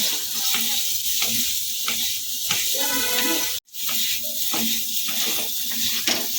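Potatoes frying in a pan for Bengali aloo ghugni, a loud, steady sizzle with regular scraping stirs close by, broken once by a brief dropout.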